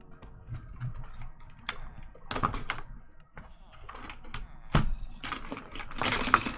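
Keys on a computer keyboard clatter in quick irregular bursts of clicks during a Minecraft stream, close up, with faint background sound between the bursts.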